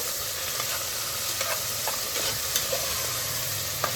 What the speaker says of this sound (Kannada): ಸೊ ಗೈಸ್, ಇವಾಗ ಇದನ್ನು ಪೂರ್ತಿ ಸ್ಮ್ಯಾಶ್ ಆಗೋ ತನಕ ರೋಸ್ಟ್ ಮಾಡ್ಕೋಬೇಕು